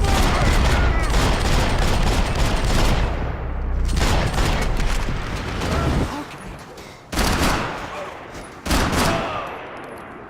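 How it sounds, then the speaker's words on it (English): Heavy gunfire in Max Payne 3 roars in sustained loud bursts of rapid shots, with brief pauses and then two more sharp volleys near the end. "Gunfire over Hoboken."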